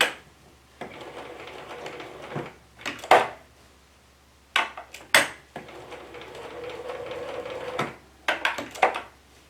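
A sewing machine stitches fabric for a neck and back pillow in short whirring bursts, with pauses between runs as the fabric is turned.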